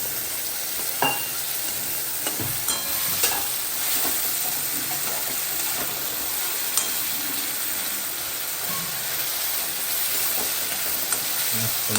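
Chopped tomatoes, onion and a green chilli fry in hot oil in a pan, giving a continuous bright sizzle with scattered pops and spatters and occasional stirring scrapes.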